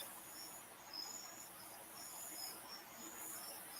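Feeder crickets chirping, a faint, continuous high-pitched trill with slight pulsing rhythm over low background hiss, steady throughout.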